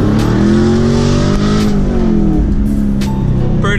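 A Chevrolet Camaro drives along a back road, its engine close and loud in a steady rumbling drone that rises and falls slightly with throttle, heard from inside or near the car with no talking.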